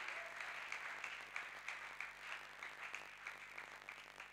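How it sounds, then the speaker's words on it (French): A congregation at a Wednesday prayer service applauds to acclaim the Lord, a steady, dense wash of many hands clapping together with a faint crowd murmur beneath, sustained throughout without a clear pause. "Est-ce qu'on peut acclamer les Seigneurs?"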